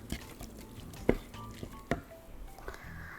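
Food is stirred in a frying pan for a chickpea stew. A soft, wet sizzle runs throughout, broken by two sharp utensil knocks against the pan, heard close with no talking.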